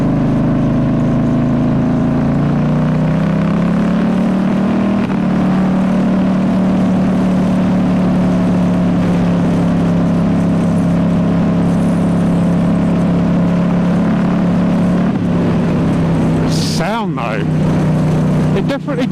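A 2019 Ducati Diavel S motorcycle fitted with a full exhaust runs with a deep, loud, sustained engine drone that rises in pitch early on, then holds steady with a brief fluctuation near the end.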